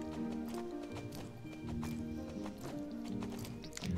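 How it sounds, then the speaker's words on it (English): Appaloosa horse in Star Stable Online moving at a slow gallop, rhythmic clip-clop hoofbeats with an occasional snort over faint background game music, fairly quiet and steady. "Alright, so here's the slow gallop."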